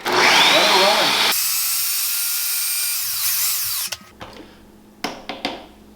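Countertop blender whirring through peppers and cilantro for homemade salsa, a loud steady motor drone that runs several seconds, then stops and gives way to light clanks and handling noises.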